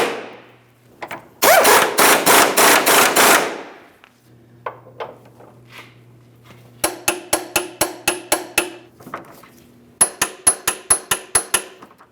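Rear lower control arm bolts on a 2005-2010 Chrysler 300 being snugged with a hand ratchet: loud, close bursts of rapid clicking, a long run first, then two shorter series of sharper ratcheting strokes separated by pauses.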